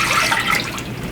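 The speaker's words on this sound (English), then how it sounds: "put the vinegar and water in my saucepan" A brief, close rush of vinegar and water pouring into a saucepan, a steady splashing gush lasting about a second.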